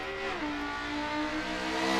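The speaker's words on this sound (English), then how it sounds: "Listen to that fucking V10 just ripping." A Lamborghini V10 race car in Forza Motorsport 7 revs hard, its engine a loud, continuous high-pitched wail that shifts down once before climbing steadily again, with no voices over it.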